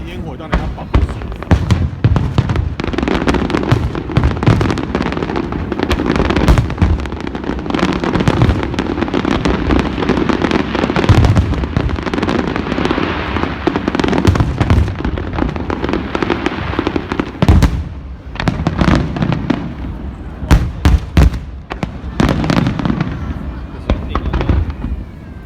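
New Year fireworks burst over Dagang West Bay in a dense run of sharp booms and crackling pops, some near and loud, others more distant, while people talk nearby throughout.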